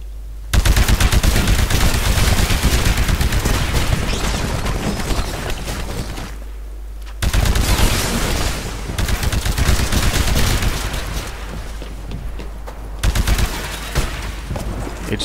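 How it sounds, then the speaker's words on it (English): An anti-Titan weapon fires at a Titan in the video game Titanfall. Loud, sustained rapid gunfire and heavy blasts fill the clip in long bursts, with two brief pauses along the way. "Destroy the Titan with your anti-Titan weapon."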